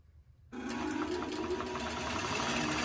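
A computerized quilting machine starts up and stitches steadily, a loud continuous mechanical whir with a rapid needle rhythm starting just after a quiet moment.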